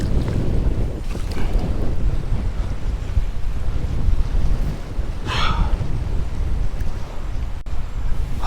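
Strong wind buffets a boat on the water off Surfside, Texas, a steady loud roar of gusts against the microphone mixed with wave wash, continuous through the whole stretch with no talking.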